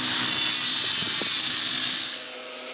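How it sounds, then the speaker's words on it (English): Larger angle grinder cutting through a stone sill, a loud continuous high-pitched grinding whine close by with slight variations as the blade bites. "I'm going to take a larger grinder and just insert in the same path and do the same thing across."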